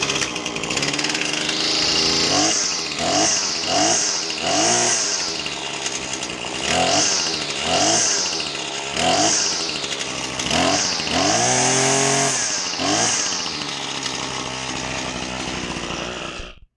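Husqvarna 525LS strimmer engine, recently flooded, revs repeatedly in a rough rhythm of about a dozen loud throttle bursts and falling drops, staying near and continuous for the whole stretch.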